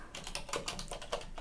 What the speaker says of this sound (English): And this is some bit of typing.